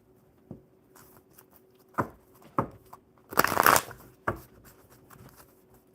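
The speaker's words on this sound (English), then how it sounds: "Let's get these shuffled real good for you." A deck of playing cards being shuffled at a table, with several crisp riffle bursts and a longer dense flutter in the middle, close and fairly quiet against a faint background hum.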